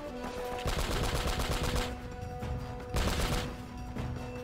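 Turret machine gun fire in Uncharted: Drake's Fortune, loud sustained bursts of rapid shots that pause and resume, with no talk over it.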